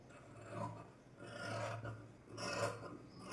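Scissors cut through blouse fabric in three slow rasping strokes, each a soft close swish separated by brief pauses, fairly faint with no talk.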